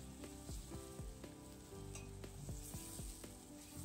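Paste of three blended onions, added after garlic paste, fries in hot oil for a fish curry, giving a steady sizzle broken by repeated scraping stirs of a spoon in the pan.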